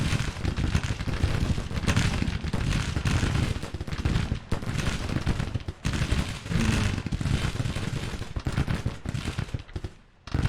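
Civil War artillery in the Grand Tactician strategy game fires on the enemy, dense booming cannon and gunfire blasts crowding together in a loud, continuous barrage.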